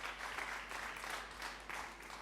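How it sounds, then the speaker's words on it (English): Applause from an audience at a London startup pitch event, a steady broadband wash of clapping that holds for a couple of seconds at moderate, distant-sounding level without speech. "Round of applause for the Kind team and all our wonderful startups"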